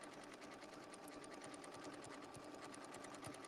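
A sewing machine attaches and stitches down binding with a circle sewing tool on a Christmas appliqué disc, giving a quiet, fast, evenly pulsing needle rhythm that runs unbroken throughout.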